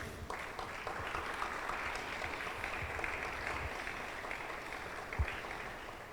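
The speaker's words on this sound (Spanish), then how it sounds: "los recibimos con un aplauso de cariño" A church congregation claps together, a dense, even patter of applause heard at a moderate distance and fairly quiet, holding steady for several seconds with a single louder thump near the end.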